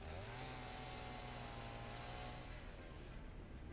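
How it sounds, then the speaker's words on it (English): A chainsaw clearing land in the video game Satisfactory buzzes steadily and loudly with a droning whine that wavers in pitch, continuous throughout and alone. "The chainsaw is just a general land clearing tool."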